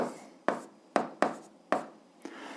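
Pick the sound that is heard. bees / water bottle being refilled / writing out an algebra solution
writing out an algebra solution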